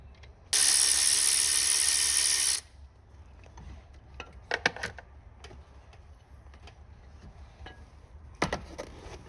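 A ratchet works on the 10mm bolts of a fan drive hub on a 6.7 Cummins engine, heard as a loud, steady burst of rapid clicking, then scattered metallic clinks and taps nearby.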